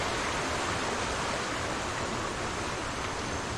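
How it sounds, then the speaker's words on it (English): A small waterfall in the Indonesian countryside sends up a steady, even rush of falling water, continuous and fairly soft, with no voices over it. "Little waterfall there."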